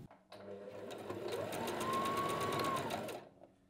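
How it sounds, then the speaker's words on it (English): A Brother GS2700 sewing machine runs in reverse to lock the stitches, giving one close, steady whirring run of about three seconds that rises and then stops. "To lock the stitch, press the reverse sewing lever as you sew."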